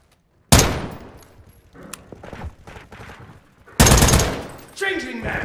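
FTAC Recon battle rifle firing in Call of Duty MW2 (2022), two loud close bursts of gunfire with quieter clatter and game sounds between them.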